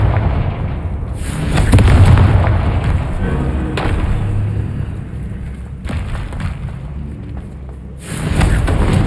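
Confringo fire-spell blasts in Hogwarts Legacy, a few separate booming bursts with crackling tails, spaced a couple of seconds apart over a dense game soundscape.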